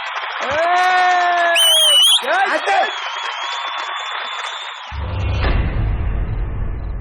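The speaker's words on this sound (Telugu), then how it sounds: "give a big applause" Studio audience bursts into loud applause with cheers and whoops on a quiz show stage, steady clapping and crowd noise over music stings, with a host speaking into the ongoing clapping.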